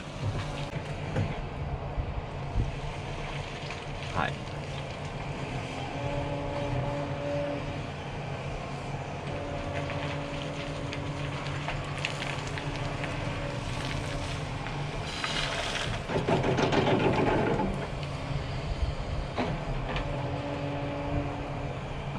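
A Hidromek 102S Alpha backhoe loader runs steadily with a low, droning engine and mechanical rattles, swelling louder for a moment midway through, with no voices.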